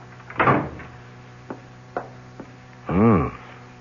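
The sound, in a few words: office door closing, radio drama sound effect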